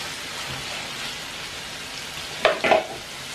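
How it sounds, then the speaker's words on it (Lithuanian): Chicken pieces for Georgian shkmeruli sizzle steadily in a pan while being fried on both sides, a constant crackling hiss broken near the end by a couple of sharp clatters from turning the pieces. "Gerai apkepam iš abiejų pusių."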